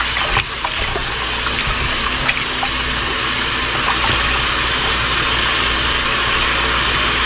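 Tap water runs steadily into a sink while raw chicken is washed with a squeeze of lemon for Jamaican brown stewed chicken, a close, continuous gushing stream with no talk over it.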